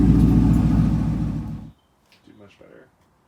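A 2018 Camaro fitted with a Borla Atak axleback exhaust and carbon fiber tips rumbles loudly and steadily at close range, cutting off abruptly, with brief faint voices talking afterward.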